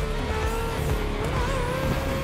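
Formula 1 race car from the video game The Crew Motorfest, a loud sustained engine whine with shifting pitch and tire noise, steady and close throughout with no talking.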